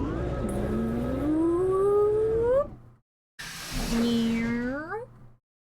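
A human voice imitates a cat's meow twice, each a drawn-out rising wail separated by a short pause, close and fairly loud.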